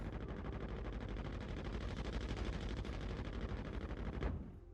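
Aegis Redeemer gunship turret guns firing in a space game, a loud, dense rapid-fire stream of shots held continuously for over four seconds before cutting off abruptly.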